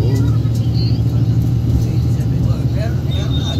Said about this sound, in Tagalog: Medyo nag-heavy na yung traffic dito.